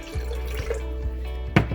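Tap water running into a Pampered Chef Deluxe Cooking Blender jar, heard as a steady stream with a few dripping plinks and a sharper splash near the end, close and clear.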